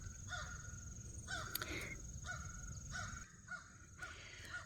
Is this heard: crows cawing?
yes